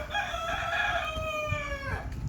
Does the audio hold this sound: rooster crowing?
yes